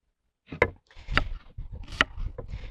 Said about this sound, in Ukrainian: нарізаю зараз ще тільки цибулю